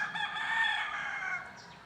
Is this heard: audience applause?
no